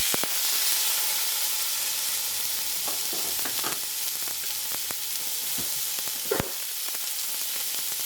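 A roast sears in olive oil in a hot pan, with a steady broadband sizzle throughout and occasional sharper crackles and pops as the meat is turned.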